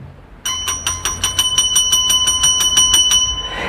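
Notification bell sound effect: a quick, regular series of about a dozen bright metallic dings, loud and close, ringing alone with a short ringing decay at the end.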